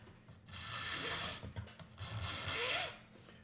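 Rasping strokes trim down the nose of a violin bow during bow making, two long, loud scraping passes separated by brief quieter rubbing, heard close with no talking.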